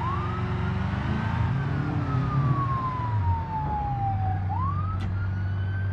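Police car siren in BeamNG.Drive, a wailing tone sweeping slowly down then snapping back up over a steady low engine drone, loud and close with a brief sharp blip near the end.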